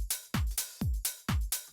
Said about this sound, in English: Just that little bit of saturation is just nice on the top end.